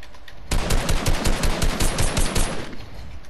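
Rapid automatic gunfire in a keyboard-and-mouse video game, a fast run of loud bursts that starts suddenly and rattles on for a few seconds before easing off.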